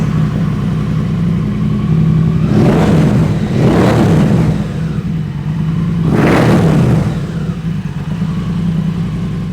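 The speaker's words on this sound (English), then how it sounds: "I'm gonna fire this thing up now so you can hear what she sounds like" A Triumph Bobber motorcycle engine runs steadily at idle, then revs up sharply three times in quick bursts before settling back, loud and close with no talking.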